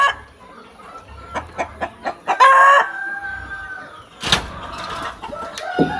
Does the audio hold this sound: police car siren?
no